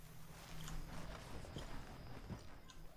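Horses at a camp in Red Dead Redemption 2, quiet hoof clip-clops and shuffling steps at close-to-middle distance over a faint ambient bed, no talk.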